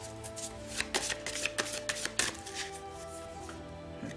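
Tarot cards shuffled and cut by hand, a run of soft papery riffles and slaps in irregular bursts, close and fairly quiet, with no talking.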